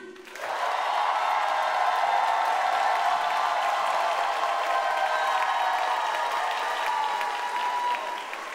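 Crowd at a house dance battle semi-final bursts into loud, sustained cheering and applause that starts abruptly and holds steady for several seconds with whistles and shouts.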